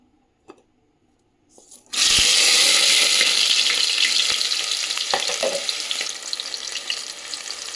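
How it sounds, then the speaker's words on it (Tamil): Chopped onions and curry leaves drop into hot oil for a chicken curry, setting off a sudden loud, crackling sizzle. The hiss holds steady and then eases slightly, with a few faint clicks beforehand. "நீங்கள் வெங்காயம், கருவேப்பிலை ரெடியாக வச்சுருக்கேன். இப்போ தாளிச்சிக்கலாம்."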